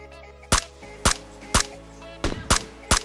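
Six sharp gunshots crack at irregular intervals in the video game PUBG Lite, loud and close, over a low background hum with no talking.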